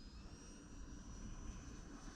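A small Pocket Rocket RC airplane flies at partial throttle, its electric motor giving a faint, steady whine and drone with no talk over it.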